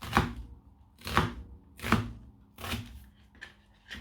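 Onion being chopped with a knife on a board, five distinct sharp cuts spaced roughly a second apart, close and clear with quiet between strokes.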